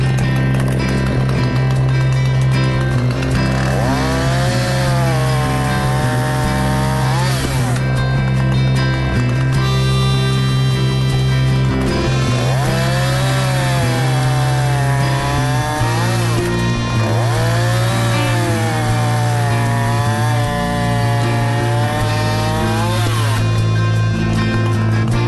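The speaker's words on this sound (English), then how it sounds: "You keep your hands on the chainsaw and activate the chain brake on a safe way" A Husqvarna chainsaw with a Triobrake chain brake runs nearby, a loud steady engine drone whose pitch rises and falls in repeated revving surges as the chain spins and the brake is applied.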